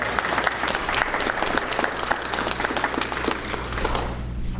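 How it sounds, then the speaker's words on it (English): Audience at a county school board meeting applauds high school students honored for national competition placings, a steady dense clapping that holds evenly for several seconds before tapering off at the end. "let's give these young folks a round of applause"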